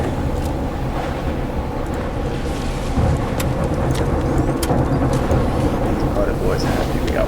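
A storm rages in the video game Dune Awakening: a loud, steady, broadband roar like wind and driving rain, continuous for the whole stretch, with a slight swell midway and faint sharper crackles on top.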